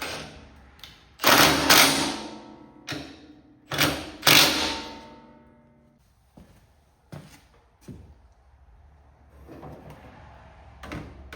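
Magnetized socket wrench turning the hood mounting bolts on a Cub Cadet 1606 or 1806 garden tractor, giving several loud close ratcheting bursts in the first half and then fainter, scattered clicks and taps.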